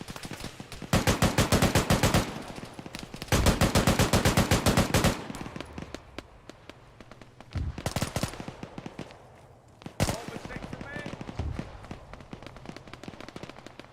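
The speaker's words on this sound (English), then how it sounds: "Oh, you're getting shot at, Beef." Automatic gunfire in the military game Arma, aimed at a player: long rapid bursts of machine-gun fire, loud and close, alternating with shorter scattered volleys and single shots.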